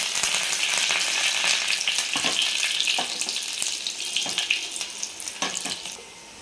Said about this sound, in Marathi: 4 पाकळ्या लसणाच्या अशा कट करून घेतलेल्या आहेत त्या टाकून घेणार आहे